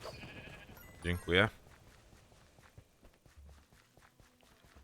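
Sheep in Minecraft Dungeons give two short bleats close together near the start, followed by light game footsteps and faint ambience, with a voice speaking briefly at the beginning.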